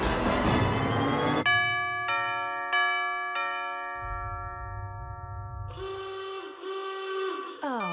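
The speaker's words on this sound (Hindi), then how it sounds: "बेल मैं बजाता हूँ।" In a Hindi cartoon, a doorbell rings with several bright, clear chimes in succession, each ringing out and decaying, followed by a lower rumbling tone and more tonal ringing toward the end.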